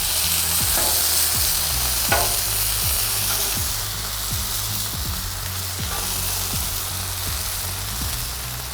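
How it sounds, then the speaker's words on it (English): Burgers frying on a hot griddle give off a loud, steady sizzle, broken by a series of sharp spatula scrapes and slaps as the patties are flipped one after another. "I'm gonna flip these burgers around now."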